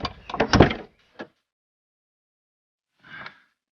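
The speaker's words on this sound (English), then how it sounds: "watch that door open" A crash-damaged car door is handled in short bursts, with a rattling clunk at the start, a brief knock, then a softer shuffle after a pause of silence.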